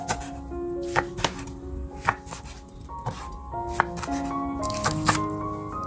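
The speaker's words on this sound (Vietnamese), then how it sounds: "rồi cắt miếng vừa ăn nè." A knife chops through fried tofu skin rolls stuffed with shrimp and pork, Teochew style, giving close, crisp cuts in an uneven series of about a dozen strikes on a board.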